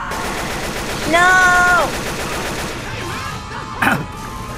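Bursts of rapid gunfire against a Smoker in Left 4 Dead 2, mixed with game noise and a shouted voice, one sharp crack near the end.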